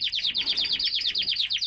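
A male red lipochrome canary chirps in a rapid, steady series of bright, high notes, close and distinct, with no speech over it.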